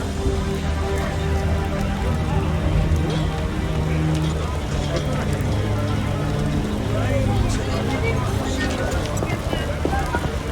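Steady heavy rain pours down in The Witcher video game, a dense constant hiss of drops on the ground with a low ambient hum and light clopping, filling the scene without a break.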